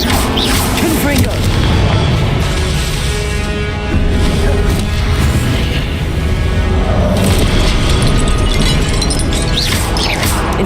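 Confringo explosive spell blasts in the video game Hogwarts Legacy, heavy continuous booming and crashing impacts that fill the whole stretch, loud and dense, with a voice calling out spell names over them.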